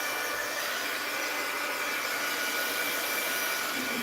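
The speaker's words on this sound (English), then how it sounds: "Heat gun alert!" Steady, even whoosh of a heat gun blowing hot air to dry a paper card at a crafting desk, holding constant and fairly loud throughout with no talking.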